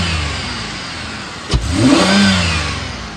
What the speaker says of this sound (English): I'm gonna rev it up so you could hear it.